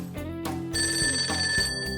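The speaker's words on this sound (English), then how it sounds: "Telephone for you, sir." A telephone bell rings in the video game Persona 5 Tactica, bright repeated trilling bursts over a soft musical background, moderately loud and clear.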